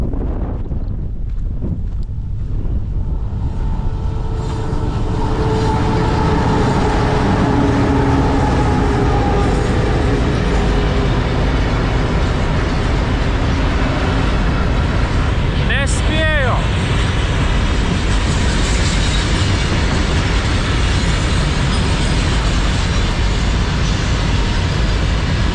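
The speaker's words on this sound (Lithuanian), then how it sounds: "Atvažiavo traukinys." An iron ore train rolls in across the Sahara in Mauritania, a long loud rumble buffeted by heavy wind on the microphone, with a sharp metallic squeal around the middle and people talking in the background.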